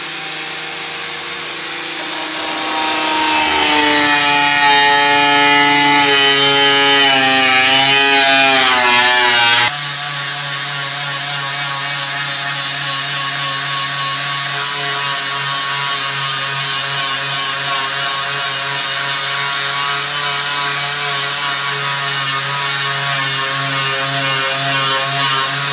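Machine polisher buzzing loudly against the body panel of a Ford Fiesta ST180 being fitted with an Airtec wide body, with a shifting whine early on before settling into a steady drone.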